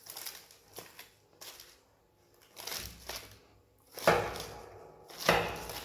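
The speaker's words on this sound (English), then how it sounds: "Then you cut it into slices" A knife cuts through food on a board in a few separate, crisp chops spaced apart, the last two louder and closer, with quiet gaps between and no talk.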